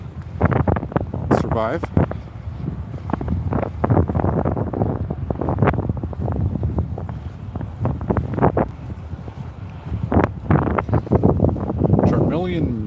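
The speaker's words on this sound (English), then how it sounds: "Walking north, I've definitely got the wind in my face." Strong headwind during a snowstorm walk on Yonge Street in North York, Toronto, buffeting the microphone in gusty roars while someone talks over it.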